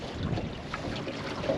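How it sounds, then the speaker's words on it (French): Gusty wind buffets the microphone over choppy water on a cold lake during lake trout fishing, a rough, continuous rushing with faint lapping beneath. "Mais là, le vent s'est levé pas pire."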